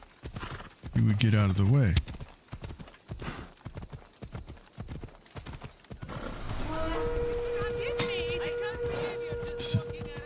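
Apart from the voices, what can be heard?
horse approaching in video game Assassin's Creed Odyssey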